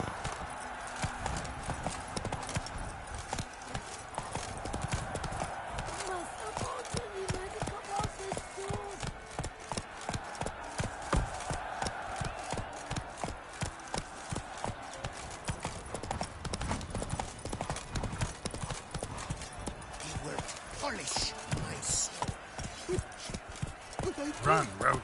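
Roach, Geralt's horse in The Witcher 3, gallops in steady rapid clip-clop hoofbeats throughout, loud and close, with a voice speaking over parts of it.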